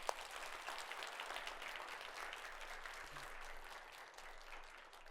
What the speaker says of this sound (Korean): 먼저 박수로 하나님께 영광 돌립니다.